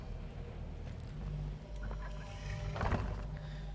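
Soft clucking of a chicken in the video game Weird West over a low steady hum, with a brief louder squawk toward the end.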